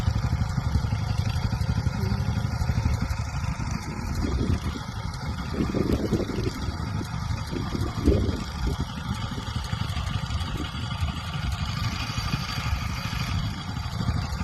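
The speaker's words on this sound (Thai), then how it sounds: "รถไถเดินตาม" A small engine runs steadily with a low, rough rumble, like a walk-behind tractor idling nearby, with a few louder throbs partway through.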